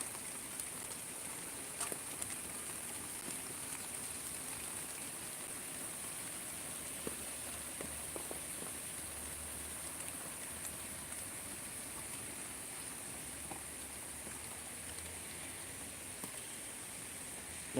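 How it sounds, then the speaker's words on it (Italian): Rain falls steadily in Salerno, Italy, a constant soft hiss of drops with faint scattered taps and a low rumble beneath. "Qua a Salerno piove finalmente."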